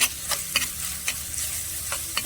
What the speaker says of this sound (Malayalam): നമ്മൾ അരച്ചു വെച്ച ഇഞ്ചിയും വെളുത്തുള്ളിയും കൂടി ഇട്ട് കൊടുക്കാം നന്നായിട്ടൊന്ന് ഇളക്കി കൊടുക്കാം